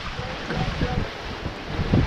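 Wind rushes steadily over a boat at sea on the Mediterranean between Spain and Marseille, with low gusty buffeting and the wash of water beneath it.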